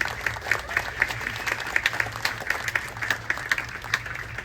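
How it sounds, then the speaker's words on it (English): Applause from an outdoor community gathering at a city council event by a swing bridge, a steady patter of many hands clapping at moderate distance, fairly soft and even. "We'll get their round of applause"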